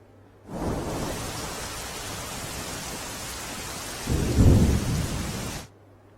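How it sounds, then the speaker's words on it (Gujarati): Heavy rain pours in a steady roar on Girnar mountain in Junagadh, with a deep rumble of thunder swelling toward the end before everything stops. "ગિરનાર પર્વત પર પણ ધોધમાર વરસાદ"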